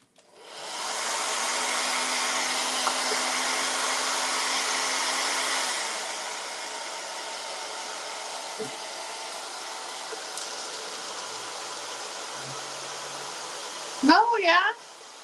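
A hair dryer blows steadily on a homemade birthday card, loud and continuous for several seconds, then continues at a slightly lower, steady level. A brief voice-like sound cuts in near the end.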